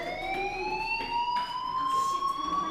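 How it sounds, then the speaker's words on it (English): A school fire alarm in the game Life is Strange wails continuously, a steady rising electronic tone with harmonics, sounding moderately close and alone without any talk. "Hey, do you hear that fire alarm?"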